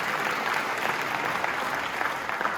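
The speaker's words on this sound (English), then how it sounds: "Please give him a round of applause." Sustained applause from an audience at a high school drumline showcase, a dense, even roar of many hands clapping throughout, heard from within the crowd.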